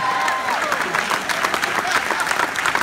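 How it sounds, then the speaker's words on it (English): An audience claps enthusiastically after speeches, a dense, continuous patter of many hands at moderate volume, with cheering voices mixed in. "Clap your hand like you mean it."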